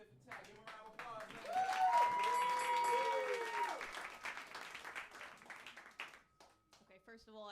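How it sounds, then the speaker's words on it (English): Applause and cheering from a comedy club crowd at a roast battle, building to a loud peak then tapering, with voices and whoops mixed in and a short stretch of talk near the end. "Give him a round of applause."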